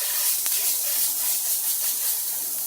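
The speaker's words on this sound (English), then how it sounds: "so now I'm going to put the burgers on. The skillet is already heated." A burger patty fries in a skillet preheated on a stove set to 8, giving a steady, close, bright sizzling hiss that holds evenly throughout.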